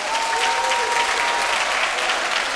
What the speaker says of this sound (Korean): 우리 한 번 더 박수 해줄까요?